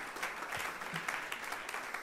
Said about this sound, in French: est-ce que vous pouvez applaudir bien fort Yvan ?